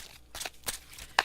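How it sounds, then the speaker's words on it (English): Playing cards are shuffled by hand in a few quick riffle bursts, close and fairly quiet, with a sharper snap near the end. "Let me give it a couple more shuffles"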